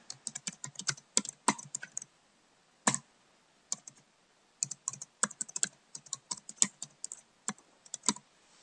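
Keys clatter on a computer keyboard as text is typed into an editor, close bursts of quick presses broken by short pauses, with no voices.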